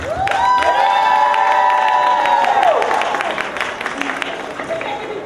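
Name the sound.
crowd applause and cheering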